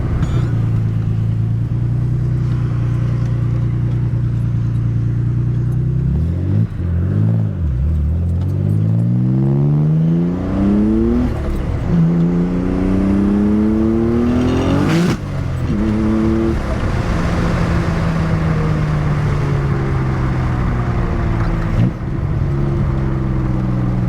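A Nissan 300ZX twin turbo with dumped wastegates accelerates hard through the gears, loud and close from inside, its engine note rising in repeated sweeps with a few sharp gear-change dips and wastegate bursts.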